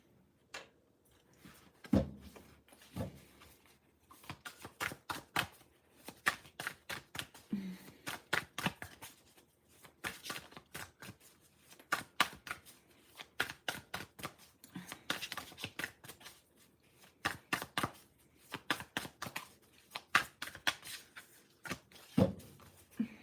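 Tarot cards being shuffled again and again, a long run of crisp riffling snaps and soft slaps in irregular bursts, close and fairly quiet, with no voices.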